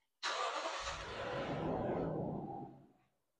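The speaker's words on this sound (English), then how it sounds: "We're gonna start up the vehicle like normal." A car engine starts up nearby in a single event: a sharp crank catches into a loud, steady running rumble that holds for about two seconds, then fades away. No one speaks.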